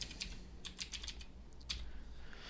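Typing on a computer keyboard while writing a Python program, with irregular bursts of quick, close key clicks and short pauses between them, no voices.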